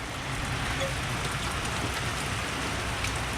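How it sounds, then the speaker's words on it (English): Steady rain falls on a surface outdoors in Alabama, a dense continuous hiss of drops with no talk, holding even and fairly loud through the whole stretch. "yeah, it's raining."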